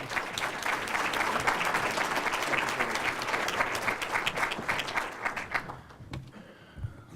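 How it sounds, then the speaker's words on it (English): An audience at a State of the City address gives a sustained round of applause, dense and even for about five seconds before tapering off into scattered claps and quiet. "So we'll welcome Mayor Dan to our podium with a round of applause"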